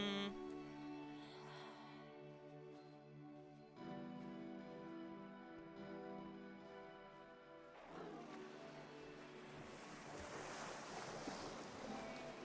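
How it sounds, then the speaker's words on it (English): Ocean waves in a video game, a soft rush of surf that rises over the last few seconds, after a stretch dominated by sustained musical tones; quiet overall, with no voices. "The ocean sounds."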